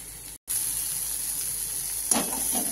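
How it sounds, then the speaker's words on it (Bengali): Leafy greens (saag) fry in a pan with a steady, close sizzling hiss that stays level throughout, broken by a brief gap early on and a soft stirring scrape near the end. "আমার শাক প্রায় ভাজা হয়ে যাচ্ছে, আর একটু হলে আমি নামিয়ে দেবো।"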